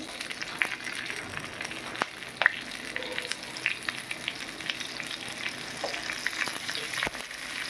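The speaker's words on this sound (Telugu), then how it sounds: "ఇక క్యాప్సికం ఇందులో పెడుతున్నా. కొంచెం నూనె వేస్తున్నా." Stuffed capsicum, filled with roasted chana dal, frying in a little oil in a pan over a medium flame, giving a steady close sizzle broken by sharp pops and clicks, with no one talking.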